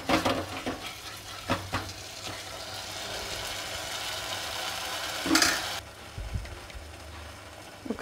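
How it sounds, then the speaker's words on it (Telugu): Masala for tomato rasam is stirred in a hot pan with a steady, gentle sizzle and spoon scrapes, joined by a brief louder clatter midway, then a softer frying hiss. "మసాలా అడిగంటకుండా తిప్పుకోవాలి."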